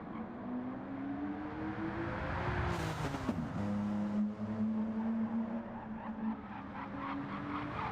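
Racing video game car in a GTO time trial spinning out in a chicane: steady engine drone, then a sharp squeal and rough skid as it loses grip, with the motor settling back to a lower hum afterward.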